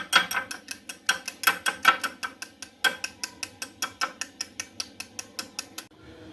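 An egg is beaten in a bowl with quick, regular clinking strokes, around two dozen beats in a steady rhythm that grow slightly softer before stopping near the end.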